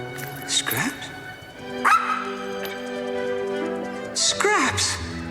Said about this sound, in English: Scraps! My dog Scraps!